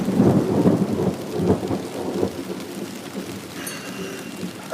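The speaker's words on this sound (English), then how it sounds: "I'm in the midst of a thunderstorm" A thunderstorm with low rumbling thunder rolling at the start over steady rain pattering on surfaces, the rumble fading as the rain continues.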